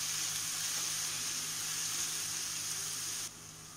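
Garlic sautés in a pan for a homestyle chicken curry, a steady, bright frying sizzle that holds evenly, then drops slightly quieter near the end.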